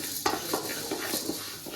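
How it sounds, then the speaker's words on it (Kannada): Barley grains dry-roasting in a pan for a Kannada post-delivery herbal mix, with a steady soft sizzle and a few light scraping stirs of a spoon against the pan, close and fairly quiet. "ಇವಾಗ ಬಾರ್ಲಿನ ಫ್ರೈ ಮಾಡ್ತಾ ಇದ್ದೇವೆ"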